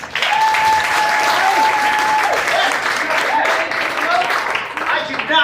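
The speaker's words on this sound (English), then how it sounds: "Give yourselves a round of applause." An audience at a comedy show at the Orlando Fringe breaks into loud, sustained applause, a thick, steady roar of clapping mixed with whoops and cheering voices that carries on for several seconds.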